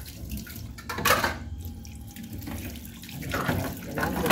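Water from a kitchen tap runs strongly into a sink, a steady close splashing gush that rises and falls slightly throughout, with faint dripping and no clear talk.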